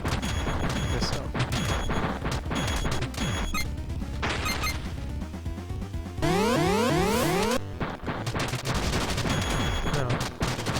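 Rapid chiptune-style gunfire from a shotgun in the retro video game Retro City Rampage, dense bursts of loud blasts over game music, with a sweeping effect midway.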